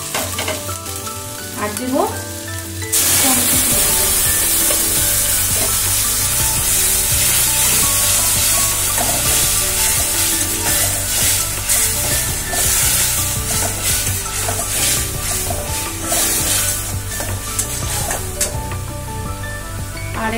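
Ginger and a mix of spices hit a hot pan, bursting into a loud, steady sizzle with scraping stir strokes throughout, after a brief quieter start where a voice speaks.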